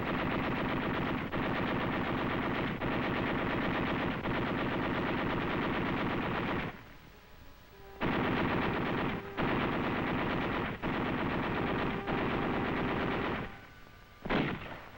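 Marine units fighting an enemy patrol in the suburbs of Naha, Okinawa, in 1945 send out long bursts of machine gun and rifle fire that rattle continuously, with a short lull near the middle and a final burst, loud and close on old film sound.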